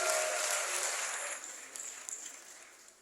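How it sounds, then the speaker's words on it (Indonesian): Applause for Kak Arif at a youth gathering, a wash of crowd clapping that is fairly loud at first and then fades steadily to quiet over a few seconds. "Tepuk tangan buat Kak Arif."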